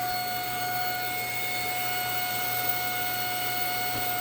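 A steady mechanical drone with constant high-pitched tonal whine, a vacuum pump running continuously at close range on a Toyota MR2 Spyder, with no other sounds.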